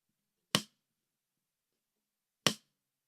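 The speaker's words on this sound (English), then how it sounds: "And a rim click." Two sharp, dry clicks sound a couple of seconds apart, short and woody with a quick decay against silence, like a rim click on a snare.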